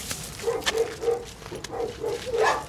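Central Asian shepherd dogs barking in a series of short, fairly close barks at an irregular rhythm, with scattered background noise.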